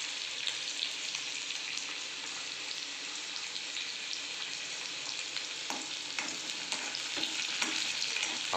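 Chopped onion sautéing in hot oil with tempering spices in a pan, a steady dense sizzle throughout with occasional stirring scrapes, close and fairly loud with no talking.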